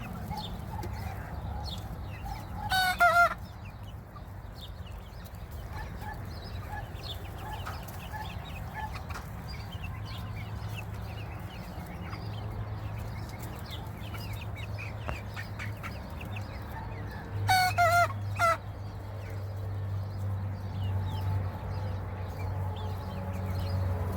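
Two short rooster crows ring out some seconds apart over a low, steady hum, with soft hen clucking and scratching scattered in between in a backyard flock.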